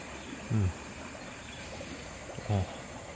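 A fast-flowing river runs high after overnight rain at a riverside fishing spot. A steady, close rushing hiss continues throughout, broken by two brief low thumps.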